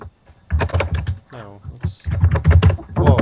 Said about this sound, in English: Someone's typing up a storm.